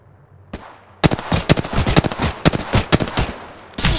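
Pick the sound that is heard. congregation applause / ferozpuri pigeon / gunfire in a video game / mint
gunfire in a video game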